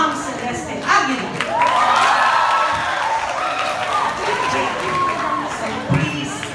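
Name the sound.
audience applause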